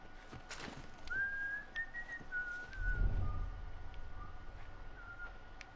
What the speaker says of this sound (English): She's over here whistling